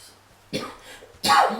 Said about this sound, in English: Sorry for the coughing, guys.